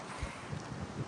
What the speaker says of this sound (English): It's so windy and so rainy, but I'm actually loving it.